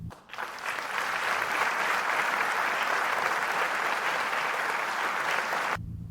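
A crowd claps and cheers steadily for several seconds, loud and sustained, before the applause cuts off abruptly.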